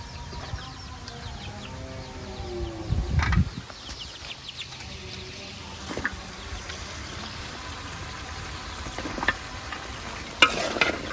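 Prawns and vegetables go into a pan of fried spice masala in a Bengali village kitchen. The soft sizzle is quiet, broken by a few scrapes of stirring, and faint poultry clucks sound in the background.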